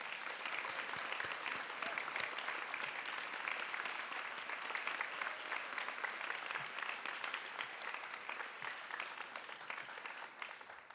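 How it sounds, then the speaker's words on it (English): Audience at a live magazine show in a contemporary art museum in Chicago clapping steadily, a sustained even round of applause that tapers slightly near the end. "Let's give them all a round of applause"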